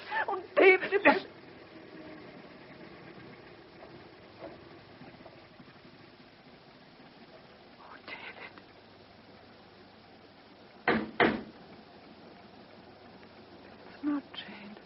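Knocking on a door in a classic BBC radio drama: short clusters of raps come at intervals, first at the start and then several seconds apart, over a quiet, hissy background.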